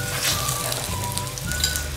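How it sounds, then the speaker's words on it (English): Bananas frying in a pan give a steady soft sizzle and crackle, with a low hum underneath, continuous and close throughout. "Then we then fry the bananas like this."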